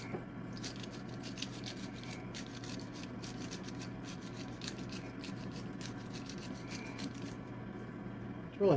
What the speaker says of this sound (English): Really not grinding it like I want them to.